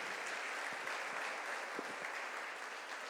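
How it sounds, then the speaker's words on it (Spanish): A church congregation claps continuously, a dense, even wash of applause holding steady at moderate loudness throughout, with no break and no talk over it. "Dele un aplauso al Señor."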